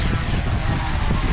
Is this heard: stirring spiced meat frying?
no